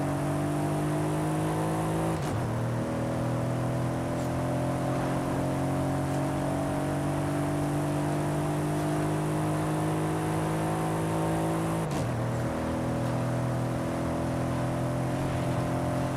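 Twin-turbo V8 car with a stock exhaust launching in Forza Horizon 5, a steady muffled engine drone with two quick shift breaks as the revs climb again, loud and continuous with no talking.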